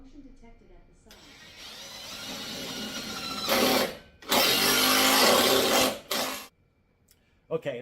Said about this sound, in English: Okay, as I started drilling,